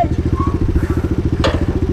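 Pit bike engine running during a test, a loud, close, rapid-firing putter with a steady rhythmic pulse and a brief clack partway through.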